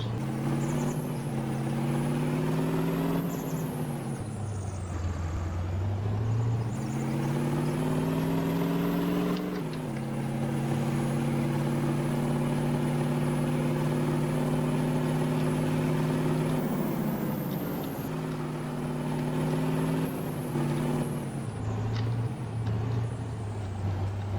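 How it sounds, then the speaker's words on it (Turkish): A tractor pulling a trailer approaches in Farming Simulator 19, its engine a continuous loud drone with shifting pitch as it revs up and down over the whole stretch, with no talk. "Tırla traktörümüz geliyor şu an."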